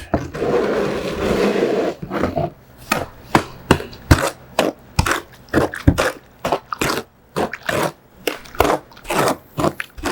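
Hand mixing historic mortar of blended sand and lime with a hoe or trowel: a gritty scraping swish at first, then a steady run of short rhythmic scrapes and chops, close and fairly loud, with no talk.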